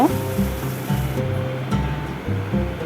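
Onion paste with turmeric sizzles and fries in a pan, a steady close crackle with soft scraping stirs recurring through it.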